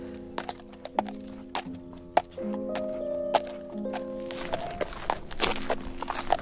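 A horse walking along a path, hooves thudding in an irregular, unhurried rhythm at close range over a sustained musical drone, with a faint whinny.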